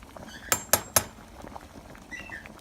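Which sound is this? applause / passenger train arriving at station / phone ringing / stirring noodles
stirring noodles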